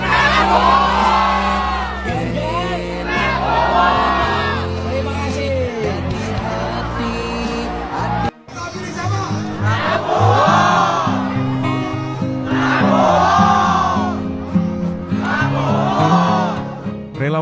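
A large political rally crowd in Central Java roars and shouts back in unison in response to a speaker, sustained and loud, with repeated chanted bursts and a brief pause midway.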